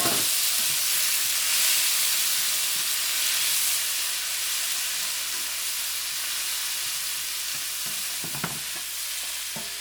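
Chopped tomato hits a pan of browned onion and fries with a steady, close hiss and sizzle, the crackle holding loud and even throughout with a few faint stirring knocks and no voices.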